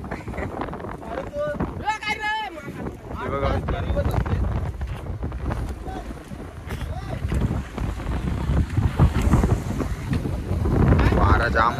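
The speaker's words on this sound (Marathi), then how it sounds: "वारा जाम आहे बोटला हलतोय बघा." Strong night wind buffets the microphone aboard a rocking fishing boat at sea, a gusty roar with water sloshing, and brief voices call out in the middle.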